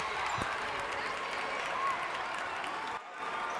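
A basketball crowd at a girls' regional quarterfinal game makes a steady wash of applause and cheering, moderately loud and continuous, with a brief dip near the end.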